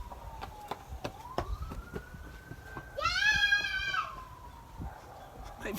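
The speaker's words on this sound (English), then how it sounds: "My videos ending is being interrupted by sirens now." A distant siren wails in a rising and falling tone, growing louder for a moment, over background traffic rumble and scattered knocks.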